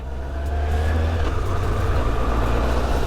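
A 2000 Yamaha YZF R1 four-cylinder motorcycle engine runs at low speed around an estate, a steady, smooth, close hum that swells slightly at the start and then holds even, with no voices.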